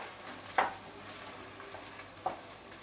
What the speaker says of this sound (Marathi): चला आता आपण हे सर्व साहित्य ना परतून घेऊया आणि साधारण आपल्याला कांदा तांबूस होईपर्यंत ना परतून घ्यायचा आहे.